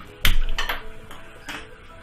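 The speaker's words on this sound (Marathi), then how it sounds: "त्याच्यावरती कढई ठेवलेली आहे," A kadai set onto a gas stove to cook sabudana khichdi gives a sharp metallic clank, followed by a couple of lighter knocks and rattles nearby, with no talking.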